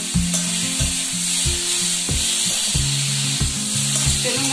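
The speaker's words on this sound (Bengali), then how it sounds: "চলুন গাইস খুব ভালো করে কষিয়ে নেব" Rohu fish pieces with onion and small tender green chillies sizzle and spit in a hot pan, with repeated scraping stirs of a spatula cutting through the constant loud frying hiss.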